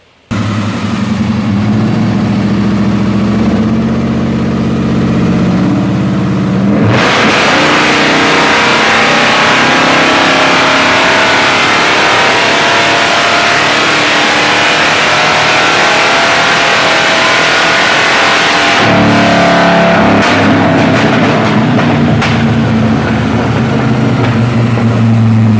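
A 1973 Dodge Charger's engine on a dyno idles, then is revved hard through a long, loud full-throttle pull lasting about twelve seconds before dropping back to a rough idle, with no talking.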